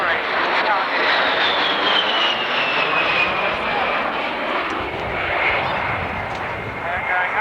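A USAF jet roars overhead at a 1991 Cold War airshow at Alconbury, a loud sustained engine rush with a slowly falling whine, under continuous commentary from an announcer.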